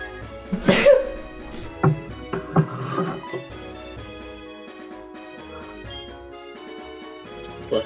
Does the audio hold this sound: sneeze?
yes